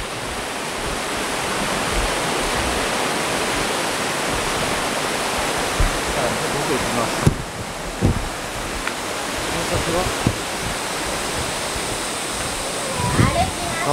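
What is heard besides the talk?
waterfall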